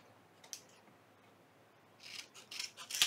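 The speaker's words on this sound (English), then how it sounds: "we're going to go ahead and trim a little bit off on the corners, just like this" Scissors trim the corners of shimmery paper for a junk journal, giving a few quiet, close snips and rasps that cluster toward the end with no voice.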